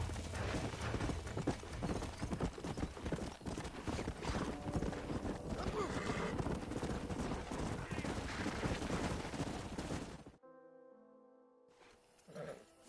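Horses galloping in the Red Dead Redemption video game, a busy stretch of rapid hoofbeats with a neigh mixed into the game sound, loud and continuous before cutting off to near silence with a brief faint sound at the end.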